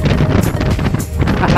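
Strong wind buffeting the microphone during a solo motorcycle ride on a road in Batangas, a continuous loud low roar with gusty surges throughout.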